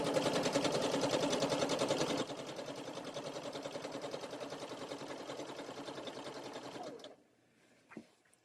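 A sewing machine stitches fabric in a fast, steady mechanical rattle that runs for about seven seconds, close and continuous, then stops, followed by a faint click.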